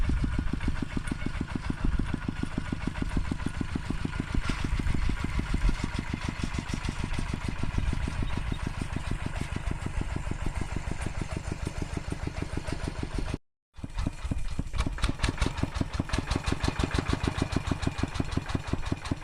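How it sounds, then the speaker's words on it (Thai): A tractor engine idles close by in a rural rice-field setting, a steady loud rapid thumping chug that runs on evenly, with one brief dropout near the end before resuming. "ตอนนี้พ่อก็เอารถไถออกมานะฮะ"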